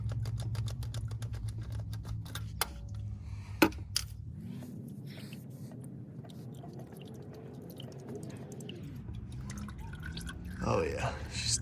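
Oil draining and dripping from a 6.7 diesel engine during an oil change, with quick, irregular drips and taps over a low, steady rumble, plus a few sharper clicks.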